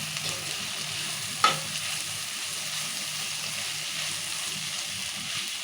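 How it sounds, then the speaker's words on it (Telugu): Onion and tomato softening in oil in a pan, for an egg curry, give a steady soft sizzle throughout, with one sharp clink of a utensil early on and no talk. "మంచిగా నూనెలో మంచిగా మగ్గించు ఇలా మగ్గించుకోవాలి నూనెలో మంచిగా"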